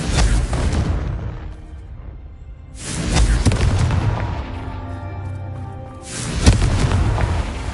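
Fire-spell explosions from the Confringo curse in the Hogwarts Legacy video game, with two heavy booming blasts separated by a few seconds and rumbling decay between them.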